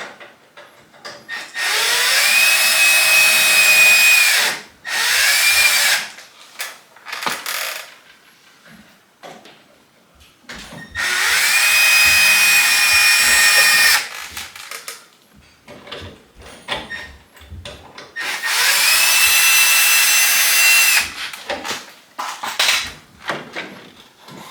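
A power screwdriver backs out headlight mounting screws on a 1973 Impala in three separate bursts of high whirring, each lasting a few seconds, with quieter clicks and handling noises between them.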